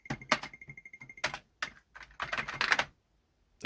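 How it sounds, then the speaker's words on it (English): An Atari ST computer keyboard clicks in quick, irregular runs of sharp keypresses, close and fairly quiet, with short pauses between bursts. "Oh, shut up with that clicking."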